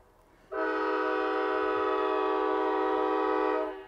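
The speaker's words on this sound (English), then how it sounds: "Got the train coming." A train horn blasts in one long sustained chord, loud and steady for about three seconds after a brief quiet lead-in, then trails off.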